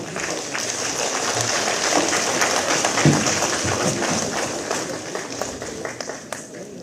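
Steady, dense applause from a large audience welcoming the chief minister at a solar self-employment scheme event keeps an even, moderately loud level throughout, with no pauses.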